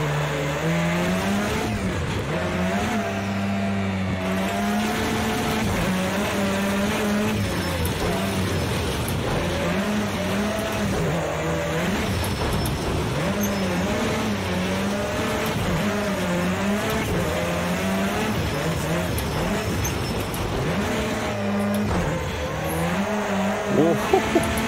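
A rallycross car in the Project CARS 2 racing game revs hard and steadily, its engine note rising and falling through gear changes with tire squeal, loud and continuous for the whole stretch.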